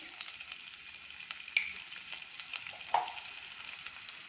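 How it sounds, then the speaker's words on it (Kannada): Onion fried in a pan with lentils, dried red chillies and curry leaves, producing a soft, continuous sizzle with a couple of light utensil clinks. "ಇವಾಗ ಈರುಳ್ಳಿ ಹಾಕ್ತಾಯಿದ್ದೀನಿ."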